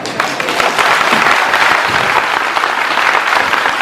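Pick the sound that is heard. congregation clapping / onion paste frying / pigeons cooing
congregation clapping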